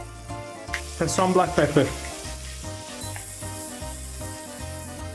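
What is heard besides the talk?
mushrooms sizzling in butter and oil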